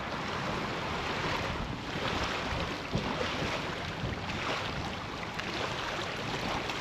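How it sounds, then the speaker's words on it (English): Rough waves and strong wind around a fishing boat on open water, a constant loud wash of broadband noise with microphone buffeting and occasional splashes, no talk. "the wind is not letting up, and like the waves and everything"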